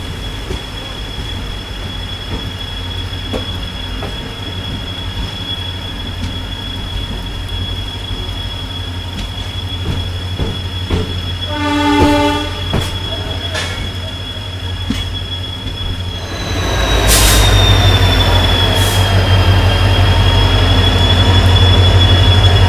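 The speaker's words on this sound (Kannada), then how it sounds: "ಮತ್ಸ್ಯಗಂಧ ಎಕ್ಸ್ಪ್ರೆಸ್" Matsyagandha Express on the Konkan Railway between Mangaluru Central and Mumbai LTT, heard from on board: a steady rumble of carriages with a high squeal of wheels, a burst of clicks midway, then a louder, harsher roar near the end.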